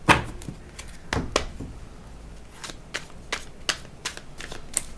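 Tarot cards being shuffled up close, with a series of crisp riffling snaps and soft clicks at an irregular pace in a quiet room.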